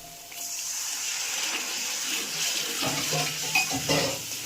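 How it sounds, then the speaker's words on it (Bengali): Water is poured into a pan of frying spice paste of ground coriander, cumin and salt for a hilsa and bottle gourd curry, giving a steady, close wash of pouring and sizzling with a few brighter splashes near the end. "সামান্য একটু পানি অ্যাড করব মশলার মধ্যে"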